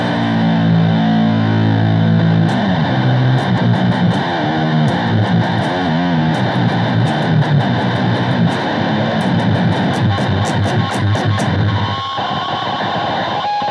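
Heavily distorted electric guitar run through a Yamaha THR-5 amp, played as grindcore: dense, loud, continuous saturated riffing with fast chugging and sharp, repeated picked attacks, no voices.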